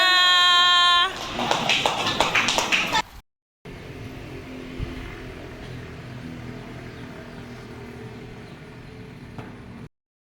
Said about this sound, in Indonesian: Tepuk tangan untuk regu 2.